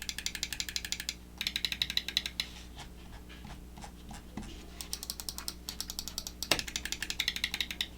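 Rapid crisp clicking from the Titan optical switches of a Roccat Kone Air mouse, delivered in quick bursts of light, dense ticks with short gaps, close-miked and quiet.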